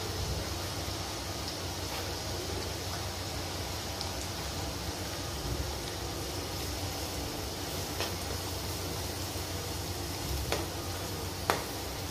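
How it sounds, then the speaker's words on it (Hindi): Two medium onions, finely chopped, frying in hot oil for a Goan chicken curry: a steady, close, even sizzle throughout with occasional faint ticks of a utensil. "ब्राउन होने तक प्याज को फ्राई करना है"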